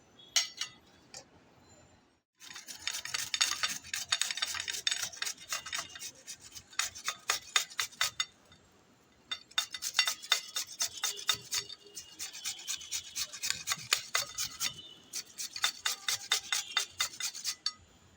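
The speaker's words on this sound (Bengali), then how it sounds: "গ্রেটারের সাহায্যে আমি গ্রেট করে নিচ্ছি।" Vegetable peels are grated on the large holes of a hand grater, making quick, rhythmic rasping strokes in bursts of several seconds with short pauses between them, close and clear, with no talking.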